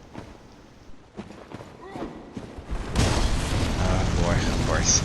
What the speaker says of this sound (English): I was like, I hear flames.